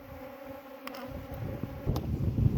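Jandaira stingless bees buzz faintly and close by with a soft, continuous hum, joined by a few brief high chirps and growing low rumble.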